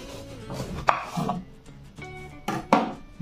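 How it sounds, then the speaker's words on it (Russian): Knife cutting peeled eggplant in a home kitchen, giving a few sharp chopping knocks against a board, close and fairly loud with quiet rustling between the cuts. "Нарезаем."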